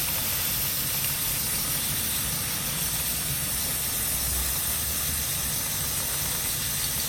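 Chain lube hisses steadily from an aerosol can onto a motorcycle chain, with card held behind to catch the overspray. The close, even spray runs unbroken for about seven seconds.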